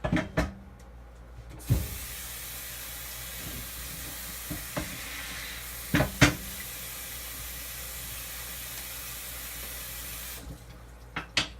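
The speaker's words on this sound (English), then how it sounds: "we'll give this a stir. Stir the pot." A pot of corned beef cabbage soup being stirred: a steady bubbling hiss with scattered clicks and knocks of the spoon against the pot, fairly close, with no talking.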